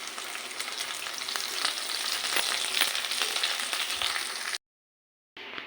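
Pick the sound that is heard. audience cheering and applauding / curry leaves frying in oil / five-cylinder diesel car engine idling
curry leaves frying in oil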